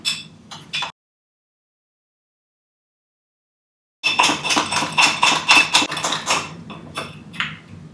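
Dalgona coffee mix of sugar and water being whisked in a bowl, a fast, loud, rattling clatter of whisk strokes that stops abruptly, pauses in silence for a few seconds, then resumes vigorously.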